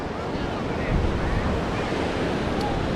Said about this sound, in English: The beach is packed today.